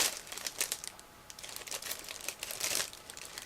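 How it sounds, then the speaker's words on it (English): Faint crinkling and rustling as sealed plastic bags holding 1/72 scale plastic model kit sprues are cut open, with irregular snips and crackles close by, no voices. "So both plastic bags were sealed. I'm going to cut through them"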